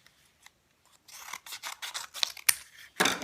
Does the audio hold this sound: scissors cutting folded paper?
yes